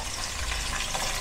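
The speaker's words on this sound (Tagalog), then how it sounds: "Ibuhos na po natin yung ating ginamit na pinang marinade" Garlic marinade, kalamansi or lemon based, is poured into a pan of chicken adobo, giving a steady, full liquid gushing and splashing that fills the whole short moment without talk.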